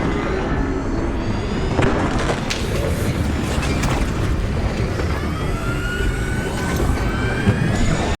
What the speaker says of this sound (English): If you can't see it, just listen out for its alarm type noise